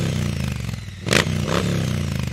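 A motorcycle engine revs with the throttle cracked open, a loud rough idle rising into two short bursts of revving with clattery mechanical roar, recorded close with no talking.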